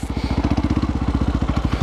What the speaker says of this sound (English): you just hear your engine RPM shooting up